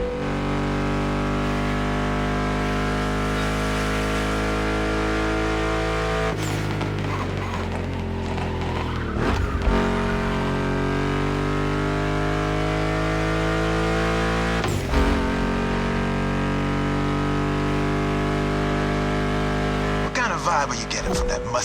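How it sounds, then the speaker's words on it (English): Mustang GT muscle cars at a motor festival produce a loud, continuous engine drone, and the pitch shifts several times as the revs rise and fall throughout. "Meshes well with the sound of the engines"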